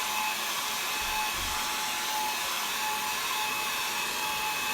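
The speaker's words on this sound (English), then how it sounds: "So now I'm going to hit this with a blow dryer real quick" A blow dryer runs steadily throughout, drying paint on a gallery wall craft project, with a constant, fairly loud whooshing roar and a faint whine and no breaks.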